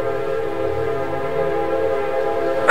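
A train running on a railway track, heard as a loud, steady, sustained horn-like tone with a rumbling undertone throughout, no talking.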